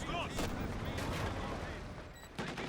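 Machine gun fire from an MG team in a building in Company of Heroes 2 rattles in sustained bursts among other battle gunfire, fairly quiet in the mix with a brief louder burst near the end.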